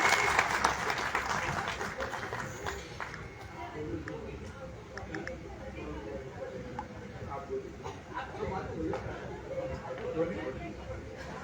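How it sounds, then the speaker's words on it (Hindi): An audience in an auditorium at a merchants' association ceremony breaks into loud applause to welcome a state minister, strongest at the start and then settling into steady clapping mixed with crowd chatter. "जोरदार तालियों से उनका स्वागत करें"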